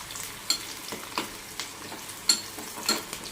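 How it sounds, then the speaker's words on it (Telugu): Chillies, onion and mustard seeds fry in hot oil for a spicy bottle-gourd curry, with a soft steady sizzle broken by scattered sharp pops and the scrape of stirring, close and fairly quiet with no talk. "మిరపకాయలు ఉల్లిగడ్డ వేసుకోవాలి. ఆయిల్ వేడాక అండ్ ఆవాలు"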